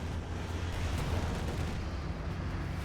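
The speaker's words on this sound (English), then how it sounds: "Incendiary barrage to deny the pack the follow-up." An incendiary artillery barrage in Company of Heroes 2 lands as a dense, rumbling roar of overlapping blasts and crackling fire, loud and continuous with no voices.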